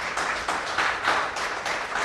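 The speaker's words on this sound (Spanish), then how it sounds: "Dile un aplauso al Señor" A church congregation applauding during a sermon, a dense wash of many hands clapping steadily at a moderate distance, with no voices over it.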